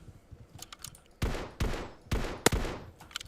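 Gunfire from the toy-soldier battle royale video game MiniRoyal, set in a house: a few faint shots early, then four loud sharp bursts in close succession, each with a decaying tail, with no talk.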